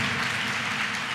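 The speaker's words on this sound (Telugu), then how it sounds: "చప్పట్లు కొడదాం అందరు గట్టిగా గట్టిగా" A church congregation at a Sunday service claps together in a brief, dense burst of applause, steady and fairly distant, with no talk.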